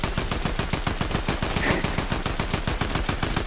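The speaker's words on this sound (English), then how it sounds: "Shoot me with your gun" Rapid, evenly spaced video game gunshots rattle off in one sustained loud automatic burst, close and continuous for the whole stretch.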